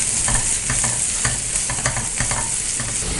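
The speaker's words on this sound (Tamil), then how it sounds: "இஞ்சி 1 டேபிள் ஸ்பூன், இதை நல்லா ஃப்ரை பண்ணிக்கலாம்." Ginger and spring onion frying and being stirred in a pan while cooking Gobi Manchurian, with a steady close sizzle under repeated scraping stir strokes and no voices.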